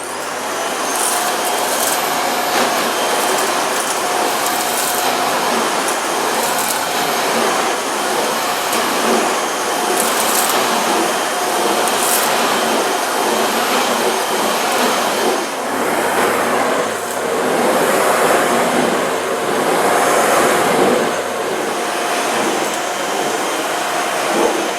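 Karcher VC5 Premium compact vacuum cleaner running on full power, a loud continuous whooshing roar with a steady high whine that shifts slightly in tone as it works, no talking.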